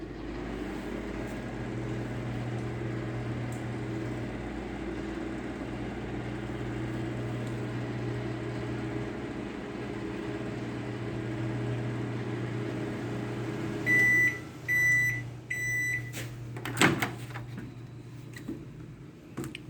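A microwave oven running with a small amount of water inside, a steady low hum with a constant mid-level drone for most of the stretch, followed by a few short beeps and clunks near the end, no talk.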